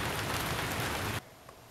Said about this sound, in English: That is some rain going on tonight.